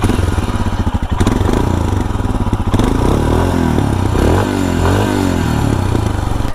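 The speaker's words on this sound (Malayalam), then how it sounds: "ഇനി ജസ്റ്റ് വണ്ടിയുടെ സൗണ്ടും കൂടെ ഒന്ന് കേൾപ്പിക്കാം" A BS6 Royal Enfield Himalayan engine thumps at close range, a loud bassy idle with rhythmic pulsing that rises and falls through a few revs, then steadies.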